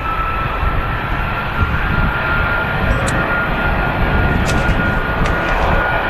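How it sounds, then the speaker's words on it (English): A jet aircraft with Rolls-Royce engines departs Manchester Airport, a loud, steady roar filling the air throughout with little variation. "Wow, what a noise. I'll let this depart first."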